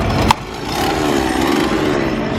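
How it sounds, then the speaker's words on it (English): A chainsaw engine roars in a Halloween Horror Nights scare zone at night. It drones loud and steady, with a sharp burst at the start and crowd noise underneath. "And it looks like the chainsaws are back in Springfield this year."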